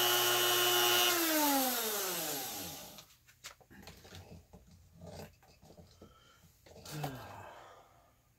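A Mastercraft rotary tool, a Dremel-type tool used for a trigger job on an Umarex Browning Buckmark, whines high then spins down with falling pitch, followed by scattered clicks and handling noises.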